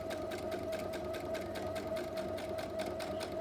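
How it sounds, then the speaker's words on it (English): A sewing machine stitches a seam on a fabric bag, its needle pulsing in a fast, even rhythm over a steady motor hum, close and fairly quiet, with no talking. "we go ahead and remove that and continue our stitch"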